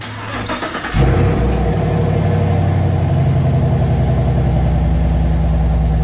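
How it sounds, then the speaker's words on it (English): A 2019 Chevrolet Camaro SS V8 fitted with a Roto-Fab cold air intake starts or surges after a second of lower engine sound, then settles into a loud, steady, throaty roar close by. "You gonna rev it? Just a little bit. A little bit more."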